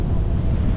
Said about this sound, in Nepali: यहाँ राम्रो हावा छ